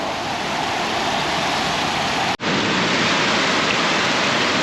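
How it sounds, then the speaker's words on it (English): Heavy rain pouring down outdoors, a dense, loud, unbroken hiss that holds steady throughout, with one momentary cut in the middle. "It's raining so much, my feet would get completely wet."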